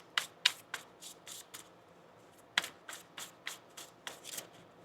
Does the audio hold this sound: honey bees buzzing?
no